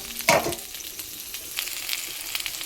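Food frying in a pan for an egg and papaya curry gives a steady close hiss, with a louder burst of sizzle and clatter near the start and faint scrapes after it.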